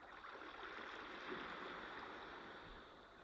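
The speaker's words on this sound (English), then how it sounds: "Enjoy these beautiful ocean sounds while you wait." Steady ocean waves washing and surging without pause, a dense continuous wash of water noise at an even level throughout, with no voices.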